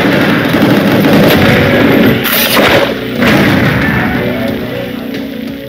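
Rocket blasts and booming explosions from the Gungrave Gore action game, loud and dense, rolling continuously with several heavier impacts around the middle.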